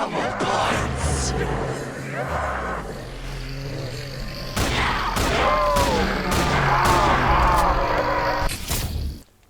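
Rapid game shotgun blasts from a TS12 semi-automatic with triple magazine tubes, sharp repeated booms cutting through steady background sound and music, fired in a quick series near the listener.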